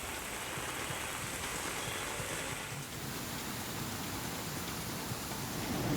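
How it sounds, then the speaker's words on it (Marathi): Steady, heavy morning rain in Ratnagiri pours down on surfaces in a dense, even hiss that stays constant and fairly loud throughout, with no voices. "रत्नागिरीमध्ये आज सकाळी पावसानं दमदार हजेरी लावली आहे."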